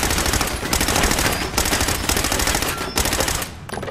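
Sustained automatic gunfire in the video game Fallout 4, loud rapid bursts of shots rattling almost continuously with brief gaps before tapering off.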